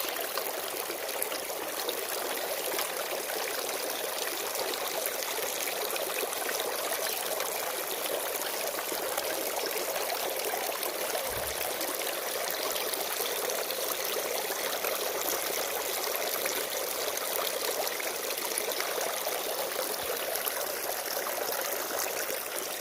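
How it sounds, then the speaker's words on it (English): A garden water fountain trickling and splashing in a steady, unbroken stream, close by and fairly loud, with no talking and a single brief low bump partway through. "Fountain is looking good."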